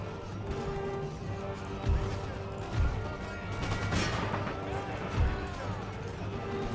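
Scattered musket volleys crackle from troops lined along a wall in Empire Total War, several dull shots popping at irregular intervals over a dense background of battle noise.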